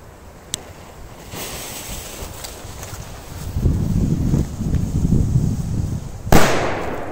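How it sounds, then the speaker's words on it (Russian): A Magnum firecracker from Cometa goes off with a sharp, loud blast near the end, following a single small pop early on and a stretch of rumbling background noise. "давайте первый бахнем вот такой магнум от кометы. Отличная петарда."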